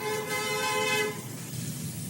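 A car horn sounds in a single sustained honk lasting about a second as the car speeds up a hospital ambulance ramp, fairly clear and close, then fading into engine and road noise.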